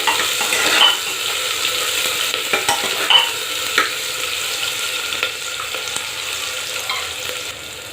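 Onions sizzle in a pan for dahi bara aloo dum, a steady frying hiss broken by occasional stirring scrapes and clinks, close up with no talking.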